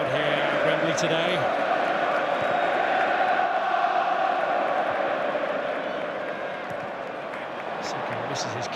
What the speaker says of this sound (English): Sellout crowd here at Wembley today.